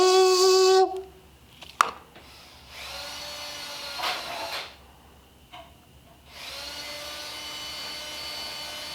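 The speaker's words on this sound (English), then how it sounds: "I couldn't hear you over my drill sound" Power drill whirring in a garage, a high whine starting and stopping in several bursts with a sharp clack between runs.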